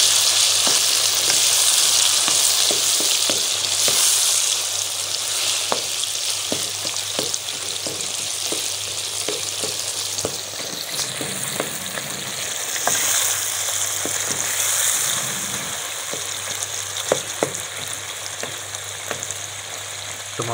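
Charsi karahi with coarsely ground black pepper sizzles steadily in a hot pan, with repeated scraping and stirring strokes over the constant frying hiss.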